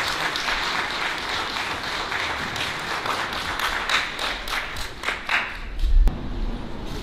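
At a graduation event for a drawing and painting studio, an audience applauds the art instructor with moderate, steady clapping. Individual claps stand out sharply near the end, where a brief thump is also heard.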